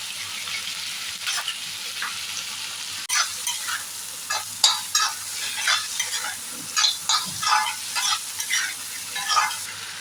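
Tomato, onions and green chillies sautéing with salt in a pan, a bright steady sizzle overlaid with frequent irregular scraping and clattering of a stirring spoon, close by with no speech.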